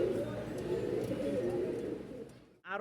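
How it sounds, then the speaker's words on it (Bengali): Pigeons kept for sale, white birds in pairs, cooing nearby in a low, continuous warbling burble that fades near the end, with a brief faint chirp and a voice at the very close. "আরও 2 পেয়ার কবুতর, সাদার সাথে সাদা।"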